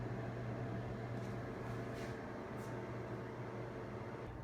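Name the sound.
Swash Express Clothing Care System running, humming like air conditioner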